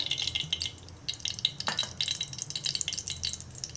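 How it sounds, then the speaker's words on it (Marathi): Oil heating in a pot on a gas stove, a close, bright crackling sizzle with irregular pops and light spattering throughout. "आता गॅसवर टोप गरम करायला ठेवला होता तो गरम झालेला आहे आता मी थोडं तेल घालत आहे"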